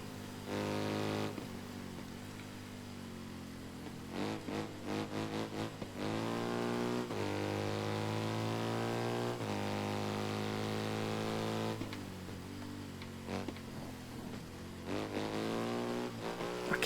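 Racing motorcycles in the video game Ride 3 snarl close behind, their engines whining and revving up and down through gear changes in loud, continuous bursts.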